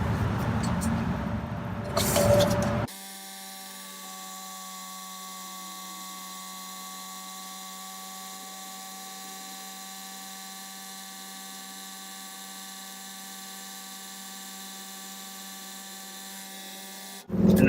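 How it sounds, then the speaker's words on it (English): An air pump fills a Reese Goosebox gooseneck hitch, a steady, fairly quiet mechanical whine with a constant drone lasting most of the stretch, preceded by a short louder jumble of noise. "all I'm gonna do now is just add the air to the Reese"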